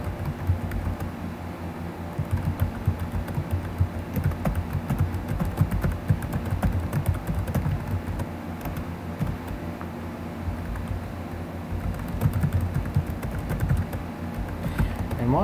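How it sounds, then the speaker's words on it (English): Rapid, continuous clicking of keys on a computer keyboard as text is typed out, close and steady for many seconds with short pauses. "I will go ahead and type this for you on there."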